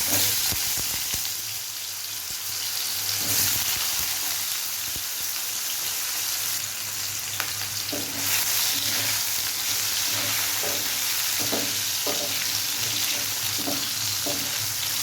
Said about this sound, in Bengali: এই মাছ ভাজার তেলের মধ্যেই আমি ফোড়নে দেবো গোটা সর্ষে আর শুকনো লঙ্কা